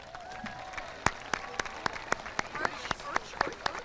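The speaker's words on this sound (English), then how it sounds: "Another round of applause for the Jonathan Law High School band." Audience applause at a high school graduation ceremony for the Jonathan Law High School band, with scattered sharp claps standing out over a softer crowd bed and some faint voices underneath.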